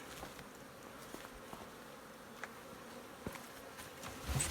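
Honey bees swarming around beehives during a spring hive inspection outdoors, a continuous, fairly faint droning buzz with individual bees passing near and occasional soft bumps and knocks, no talking.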